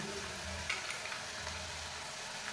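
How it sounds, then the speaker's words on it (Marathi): Ginger-garlic paste fries with onions in a pan, a steady close sizzle with a couple of soft stirring taps. "आता ही आलं लसणाची पेस्ट पण आपल्याला 2 मिनिट भाजून घ्यायची."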